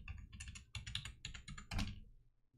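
Someone typing a database root password on a computer keyboard at a Windows command prompt, an uneven burst of close, clicky keystrokes ending in a firmer final press, then silence.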